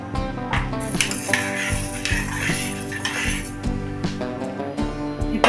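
A spoon stirs turmeric powder into green gram and water in a cooking pot, giving steady, close metallic scraping and clinking over a continuous background of other sound.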